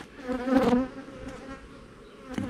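Honey bees buzz close around a hive that holds a laying queen, a loud whining drone that swells, then fades, and is later joined by a brief second pass.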